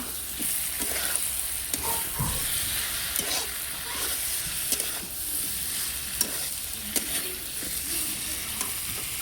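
Raw cumin and spices frying in a pan for a pointed gourd and prawn dish, a steady soft sizzle broken by intermittent stirring scrapes and clinks, close and free of speech.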